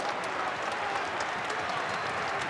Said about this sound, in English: Applause from the crowd for an enterprising piece of attacking play by Rodney Wallace.